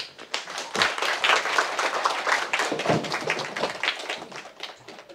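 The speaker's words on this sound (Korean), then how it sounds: "다시 한번 박수 한번" An audience claps after a university lecture, a steady patter of many hands that rises quickly, stays fairly close and full, then gradually thins toward the end.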